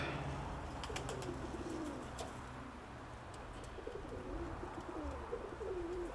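Pigeons at a home loft coo in repeated low, rolling phrases, moderately close, with a steady murmur of background noise and no talking.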